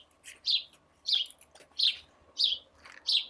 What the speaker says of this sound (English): Sorry guys if the birds are too loud.